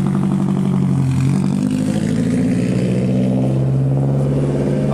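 A drift car in Las Vegas revs hard and steadily, its engine droning loud and close throughout with a rough, continuous growl that never drops away.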